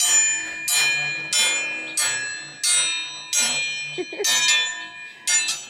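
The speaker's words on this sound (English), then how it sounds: "we'll go ring the dinner bell and get everybody eating" A handheld dinner bell is rung repeatedly at a family home to call everyone to lunch, giving about eight bright, ringing clangs in bursts, each fading briefly before the next, loud and near with no talk over it.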